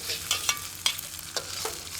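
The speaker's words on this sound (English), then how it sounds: "Stir it about, toss it about," Cabbage and carrot stir-fried with spices in a hot pan, crisp sizzling broken by rhythmic scraping and tossing strokes, close and lively with no speech.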